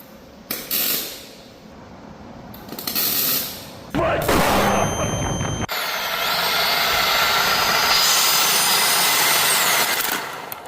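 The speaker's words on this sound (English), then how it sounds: "We're going to weld a nut onto the input shaft here. Just give it a couple little tacks." Tack welding a nut onto a Honda Prelude transmission input shaft produces short bursts of buzzing, crackling arc, then a long sustained loud crackle, with bangs and shop noise between the bursts.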